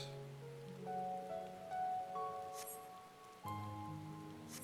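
Steady rain falls in the video game Final Fantasy XIV, a soft continuous hiss beneath layered sustained music tones, with occasional brief bright splashes.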